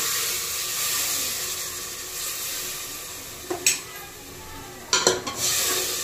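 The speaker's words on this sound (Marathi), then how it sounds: "आता आपण त्याच्यासाठी हे शिजण्यासाठी थोडंसं पाणी टाकून घेऊया." Water goes into a pan of sizzling misal masala with a soft hiss of frying, then a couple of sharp clanks of a spoon against the pan near the end.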